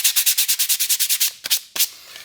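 Butcher block coasters hand sanded with 150 grit sandpaper: about a dozen quick, close, rhythmic back-and-forth rasping strokes, then a pause and a few slower separate scrubs.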